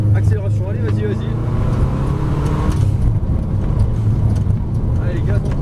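Rally car engine droning loud and steady on a circuit, revving with a constant hum under continuous instructor talk.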